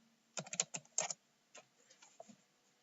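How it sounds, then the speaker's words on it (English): Keys clack on a computer keyboard in a quick close burst of several strokes, followed by a few sparser, softer taps in a quiet room. "We start by typing MBED in the browser."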